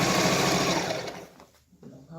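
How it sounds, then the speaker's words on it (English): Sewing machine stitching fabric for a large circular bow, a fast steady whirring hum that runs loud and close, then slows and stops, with a voice talking over it. "take back to the sewing machine and just sew it up like 1/8 of an inch"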